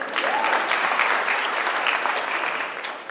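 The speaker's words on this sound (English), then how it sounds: "go ahead, you can clap" An audience claps at a senior class convocation for graduating students, a warm, steady round of applause lasting a few seconds before easing slightly.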